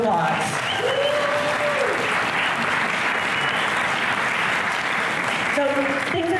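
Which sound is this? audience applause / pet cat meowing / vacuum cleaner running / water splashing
audience applause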